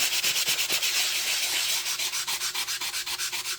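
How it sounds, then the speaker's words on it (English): Two-tone cardstock with a white core is sanded by hand in quick, even back-and-forth strokes, a close rhythmic scratchy rasp repeating steadily throughout. "So then I just took it, sanded it over."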